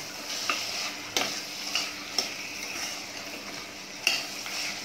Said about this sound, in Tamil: 1/2 கேஜி மட்டன் வாஷ் பண்ணிட்டு வச்சுருக்கேன், அதை நம்ம அதில் போட்டுக்கலாம். மட்டனுக்கு தேவையான அளவு இஞ்சி பூண்டு